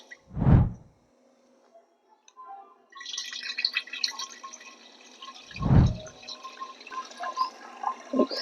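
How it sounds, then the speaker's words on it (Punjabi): Water splashes and flows into a cooking pot before milk is added for making curd, with a couple of dull low thumps before and during the pour. "ਥੋੜਾ ਜਿਹਾ ਪਹਿਲਾਂ ਪਾਣੀ ਪਤੀਲੇ 'ਚ ਪਾਵਾਂਗੇ"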